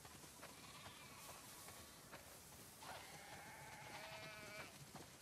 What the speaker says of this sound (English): Wow, that's a lot of sheep.